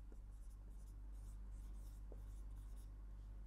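Marker or chalk writing on a board during a French lesson, faint scratchy strokes in short bursts over a low steady hum, with no voice.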